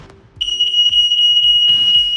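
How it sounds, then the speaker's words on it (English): An old smoke alarm dating from 2000 shrills during a fire smoke test, a steady piercing continuous tone that starts abruptly and holds loud without a break. "The old smoke alarm from 2000 responded in 2 minutes and 6 seconds."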